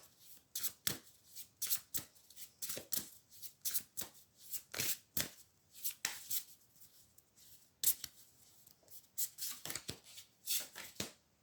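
Tarot cards being shuffled by hand, a steady run of crisp riffling bursts and flicks repeating over several seconds, close and fairly quiet with no talking.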